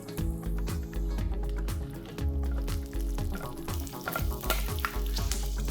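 Whole spices fry in oil for a lamb curry: dry red chillies, cumin seeds, black and green cardamom, cinnamon sticks, black pepper, cloves and mace. A loud, close sizzle is broken by repeated rhythmic stirring scrapes and knocks, with no talking.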